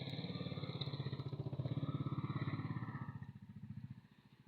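A motorcycle rolls along a road with a rapid, even engine putter, fairly close, then fades as it moves away.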